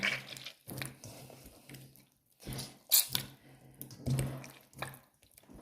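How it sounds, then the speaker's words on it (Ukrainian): Homemade butter is pressed into a lump as buttermilk separates, giving soft wet squishes and squelches in irregular bursts with quiet pauses between, close and fairly faint. "ми вибиваємо його до тих пір, видушуємо, щоб збити в одну грудочку"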